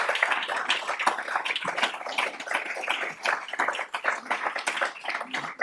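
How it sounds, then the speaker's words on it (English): An audience at a community association annual meeting claps for its board of directors, with individual hand claps distinct and uneven, moderately loud and continuous without a break. "Let's give a round of applause to our 2024"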